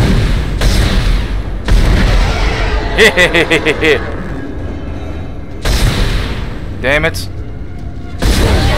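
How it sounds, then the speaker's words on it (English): Heavy, booming gunshots in the video game Dead Space land as a handful of separate blasts spread across the moment, mixed with in-game effects while someone talks between them. "I don't want to shoot the thing, I want to cut it"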